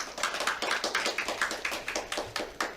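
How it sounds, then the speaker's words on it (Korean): Brisk applause for four discussion panelists at a welfare policy forum, a small group of hands clapping in quick, fairly even claps that continue throughout. "네 분의 토론자분들께 다시 한번 큰 박수 부탁드립니다"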